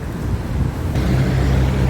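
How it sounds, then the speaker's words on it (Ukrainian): Steady wind buffeting the microphone with low rumbling gusts, growing stronger and more constant partway through, with no voices. "знову вітер піднімається"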